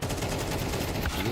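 A gunshot headshot lands during a professional Counter-Strike-style match, heard as a brief, dense burst of close gunfire that fills the whole moment.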